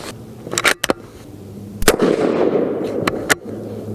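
A Tikka T3X Super Varmint .223 Remington rifle fires a single loud, sharp shot outdoors, with a few other sharp cracks and a decaying rumble around it.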